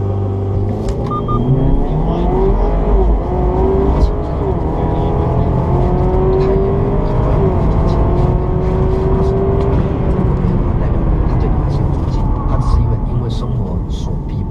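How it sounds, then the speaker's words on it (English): A Cadillac ATS with a ZZP Stage 1 tune and Mishimoto intercooler kit races a Subaru down a drag strip, engines revving and climbing in pitch steadily for many seconds, loud and sustained, with voices talking over it. "Caddy over the left lane, going to take on the Subaru."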